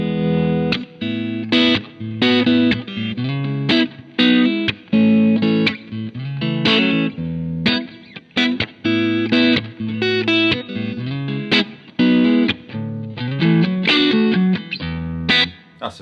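Electric guitar played through a fuzz pedal, a full, saturated distorted tone carrying a continuous bluesy song line with chords and melodic runs, loud and steady with no voices.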